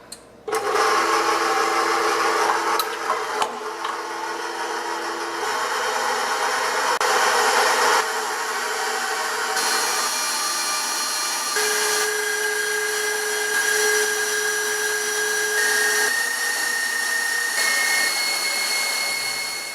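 An electric mixer whirs steadily, beating eggs and sugar for a white cake, loud and close, starting slow and stepping up in pitch as the speed increases, running alone for the whole stretch.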